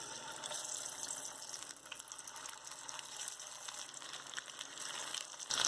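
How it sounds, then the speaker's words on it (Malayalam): Egg batter snacks deep frying in hot oil over a medium flame, giving a steady, close crackling sizzle that runs unbroken throughout, with no talking. "നമുക്കിനി ഇത് ഓരോന്നായിട്ട് ഇതിലേക്ക് വെച്ചിട്ട് നന്നായിട്ട് വറുത്തെടുക്കാം"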